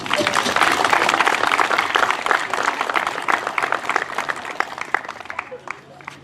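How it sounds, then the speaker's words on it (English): A crowd gathered outdoors at a Walk a Mile in Her Shoes event claps in sustained applause that fades gradually toward the end. "Let's give them a clap."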